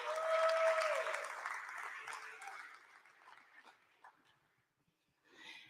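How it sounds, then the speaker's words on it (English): Audience applause at a crypto conference in Austin as guests are called onstage, starting strong with a voice and a brief tone, then tapering into scattered claps and near quiet before a short final burst. "Give them a round of applause,"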